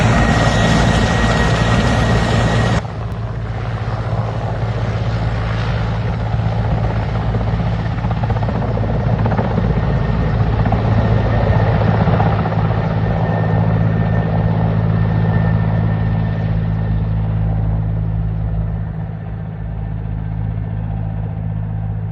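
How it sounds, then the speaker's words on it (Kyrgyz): A helicopter carrying construction materials to remote, hard-to-reach areas makes a loud, continuous rotor and engine drone that stays close and steady throughout, with no talk. "татаал аймактарга теги учактар курулуш материалдарын жеткире баштады"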